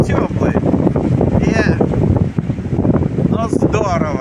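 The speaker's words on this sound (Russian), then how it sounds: "а сейчас вот прямо волны их перекрывают, брызги вот до нас даже достают здесь" Wind and waves break over rocks on the Mediterranean Sea, a loud steady roar of surf and gusting wind close to the microphone, with a person talking over it.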